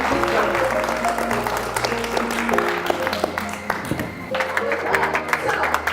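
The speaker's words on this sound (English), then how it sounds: "please give these ladies an amazing, amazing round of applause." An audience applauds presenters on a stage at a live startup event in San Francisco, clapping running under loud stage music throughout.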